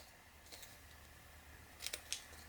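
Scissors snip paper at an angle to trim the corners of a scored gusset while making a handmade gratitude journal, with two or three quick, crisp cuts close by in an otherwise quiet room.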